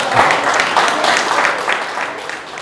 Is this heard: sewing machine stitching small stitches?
no